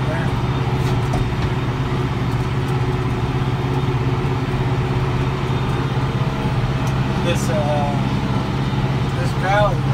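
A Kubota M4-071 tractor pulling a four-basket hay tedder through a hayfield runs with a steady, low, droning engine hum. Someone talks over the engine noise now and then.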